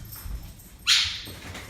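A dog gives one short, sharp yip or bark, close by, with faint rustling before and after it.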